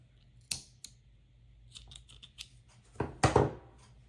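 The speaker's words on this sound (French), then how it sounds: "Je fais une maille en l'air et je coupe mon fil." Sharp scissor snips cutting crochet yarn while finishing a round of a poncho, with two distinct cuts near the start and a louder cluster of snipping later, close and clear in a quiet room.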